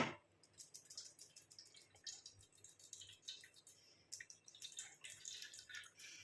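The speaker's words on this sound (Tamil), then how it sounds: "இந்த மாதிரி ஒரு வடிகட்டி வச்சு நீங்கள் வடிகட்டிட்டு எடுத்துக்கோங்க." Ground black cumin liquid drains through a kitchen strainer, giving soft, irregular trickles and drips that come and go over several seconds, close by and fairly quiet.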